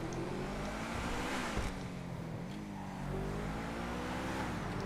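Engine of the Truffade Thrax supercar in GTA Online revs and drones at moderate volume, its pitch rising and dipping in a few shifts over a steady rumble.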